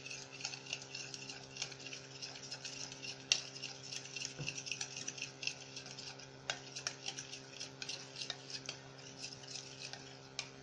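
Marinated ingredients for charcoal-grilled shish tawook being stirred together in a bowl, with soft repeated clinks and scrapes of a utensil against the bowl over a low steady background hum.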